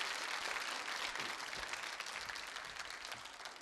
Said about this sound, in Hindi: तालियां बजाइए इनके लिए, तालियां तो बजती रहनी चाहिए।